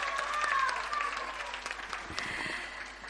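An audience at a school annual day claps for the nursery and play group children, a short burst of applause with some voices and faint tones mixed in.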